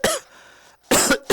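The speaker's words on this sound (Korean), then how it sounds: "갑자기 기침이" A man coughs a few times in quick succession, sharp close bursts separated by brief quiet, with no talk.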